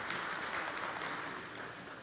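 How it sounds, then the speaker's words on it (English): Audience applause for a medal winner at a ninja competition, heard as a brief, soft, steady patter of clapping from a crowd. "Go ahead, give you a round of applause, Max."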